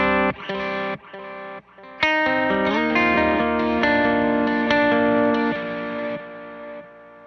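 Electric guitar played through a Meris pedal with a tube preamp in its feedback loop, sustained distorted chords with chorus-like shimmer and echo, loud and thick, no speech.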